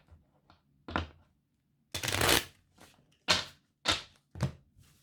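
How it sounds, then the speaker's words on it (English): A deck of 55 playing cards being shuffled, with a long riffle burst followed by several separate quick shuffles and soft thumps as the cards are squared, close and alone. "So where we start is there is a deck of 55 cards, and you just have to shuffle it to begin with"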